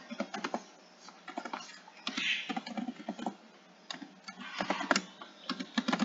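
Computer keyboard typing while entering a function in Maple math software, with rapid bursts of close, clicky keystrokes separated by brief pauses, moderately quiet, no voices.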